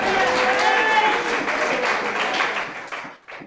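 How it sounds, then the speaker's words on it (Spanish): Applause from a church congregation, a broad steady wash of clapping that fills most of the stretch before thinning out at the end, with some voices mixed in. "Pido un poderoso aplauso a Dios por eso."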